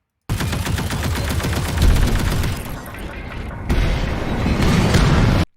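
A sound-design explosion from a demo reel gives a sustained, dense roar of booming and crackling bursts that lasts several seconds, dips briefly in the middle, then surges again before cutting off abruptly.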